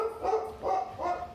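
Dogs bark indoors in three evenly spaced bursts, moderately loud and somewhat muffled, with no talking over them.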